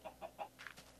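Short, soft chicken clucks in the video game The End of Crafting repeat quickly, three or four in a row, followed by a few higher chirps, quiet and fairly close.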